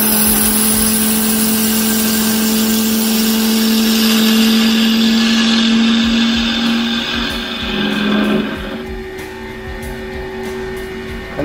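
A wood lathe cleans up the end of a workpiece held in a chuck and overhanging the edge, with the tool chattering in a loud sustained buzzing drone that eases off toward the end into lighter scraping.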